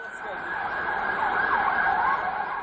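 Ambulance sirens wail continuously from a short distance at an airport hit by an attack, a steady rising-and-falling tone with road noise beneath and no talk.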